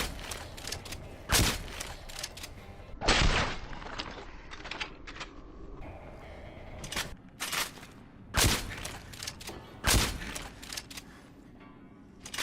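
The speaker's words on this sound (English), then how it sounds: "the Bowgun. A crossbow that shoots bolts." Bowgun crossbow firing bolts in Resident Evil: Revelations 2: sharp, loud mechanical shots at irregular intervals, each a sudden crack followed by brief rattling, over a low background of game noise.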